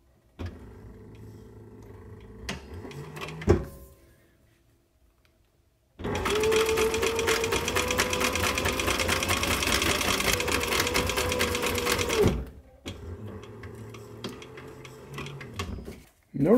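Sewing machine stitching a medieval belt pouch, a loud steady whirring run of about six seconds, framed before and after by quieter handling noises and clicks.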